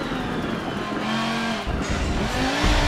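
A race car with a gutted interior roars loudly in Forza Motorsport 7, its engine revving up and down through shifts, with tire squeal and skidding mixed in.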